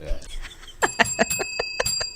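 A bell rings repeatedly in quick bright strikes, about half a dozen rings in a loose rhythm, close and fairly loud, with some murmured voices around it.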